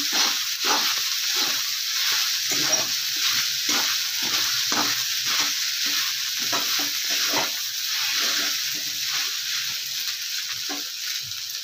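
Soaked sabudana khichdi (tapioca pearls) stirred in a hot pan: steady, rhythmic scraping strokes repeat about every half second over a constant frying hiss, close and fairly loud, with no voices.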